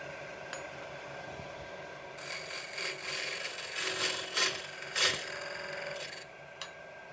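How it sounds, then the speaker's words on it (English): A gouge cuts irregular wood spinning on a lathe, a steady scraping rasp over the motor hum that swells and grows louder in the middle as the cut deepens, then eases back. "I'm gouging it."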